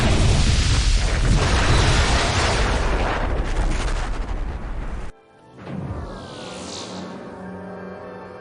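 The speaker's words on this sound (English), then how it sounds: "he's gonna det all those torpedoes" Torpedoes detonate in the Netrek video game as a loud, sustained roar of blasts that cuts off abruptly, leaving a quieter, softer whooshing tail.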